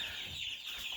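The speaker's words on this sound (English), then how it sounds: "So these are Cornish cross meat chickens." Cornish cross meat chickens cluck softly in a brooder setting, a brief murmur of low, close bird sounds with steady background hiss and no talking.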